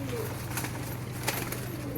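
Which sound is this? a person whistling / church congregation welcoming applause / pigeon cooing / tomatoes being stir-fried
pigeon cooing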